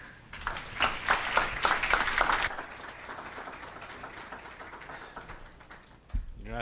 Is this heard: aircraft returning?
no